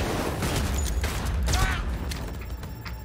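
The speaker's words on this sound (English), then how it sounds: "That's a grenade, y'all" A grenade blast in Cyberpunk 2077, heard as a low rumbling boom with scattered crackling debris and mechanical clatter that fades over about three seconds.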